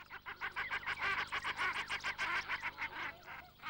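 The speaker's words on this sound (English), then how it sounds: "Shelduck are usually silent, but you may hear rather whip-like whistles or goose-like cackling." Common shelduck, a brown-and-white coastal duck, gives a rapid series of goose-like cackling calls with whistly, whip-like notes, rhythmic and fairly close, steady for a few seconds with no talking.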